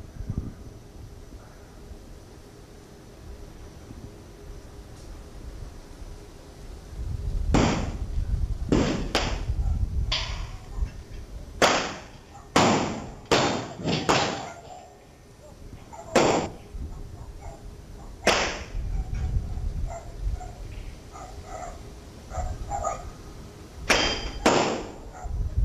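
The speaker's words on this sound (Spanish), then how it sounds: "revisemos el video y escuchemos los disparos" Gunshots in a city street: sharp, loud cracks ring out in irregular bursts, some in quick succession, echoing between buildings.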